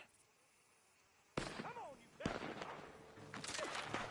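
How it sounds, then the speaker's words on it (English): Gunfire in the Red Dead Redemption 2 video game: sharp, loud shots break a quiet stretch, followed by further blasts and a sustained noisy firefight with voices mixed in. "The gunshots are coming from the..."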